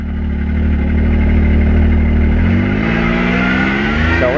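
A 2023 Can-Am Maverick X3 DS side-by-side engine roars loud and close as it is shifted into four-wheel drive on a trail, then the revs rise and fall in a sustained drone.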